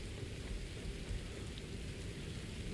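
Rain falls in the video game Satisfactory, a steady, dense, broadband hiss of rainfall at moderate level that continues evenly without breaks or voices.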